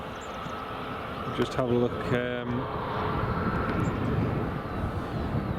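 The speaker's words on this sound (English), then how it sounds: "Just noticed there's a Challenger just coming into land." Challenger private jet coming in to land at Edinburgh Airport, a steady distant jet rumble running throughout, with a brief spoken remark over it early on.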